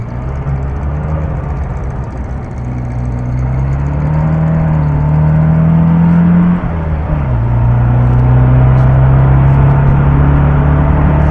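A 1970 MGB with its 4-cylinder engine drones steadily while driving, rising in pitch as it accelerates, dipping briefly at a gear change, then settling back into a loud, continuous hum.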